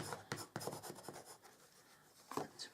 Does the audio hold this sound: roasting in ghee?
no